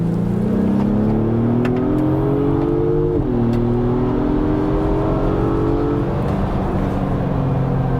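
A 2024 Acura MDX Type S Ultra engine in Sport Plus mode revs up in a steady, rising drone heard from inside the cabin, holding a loud sustained tone with a slight dip midway before settling.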